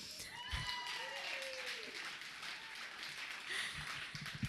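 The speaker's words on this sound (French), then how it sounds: "puis ça s'applaudit" Audience applause at a live stage show, a steady wash of clapping that holds evenly for several seconds while a voice carries on over it.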